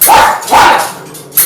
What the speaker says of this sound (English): Leo, sorry about the dogs